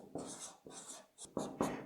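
A pen writing on a flipchart: several short scratchy strokes with brief pauses between them, close and fairly quiet, with no talking.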